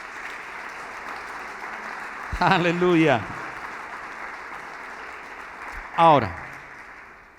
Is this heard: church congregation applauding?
yes